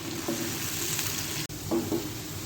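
Steady crackling sizzle of onions frying until brown in a hot pan, with a couple of soft stirring scrapes partway through.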